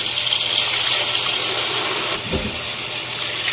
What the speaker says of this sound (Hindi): यहाँ मैं इसमें 2 कप पानी शामिल कर रही हूँ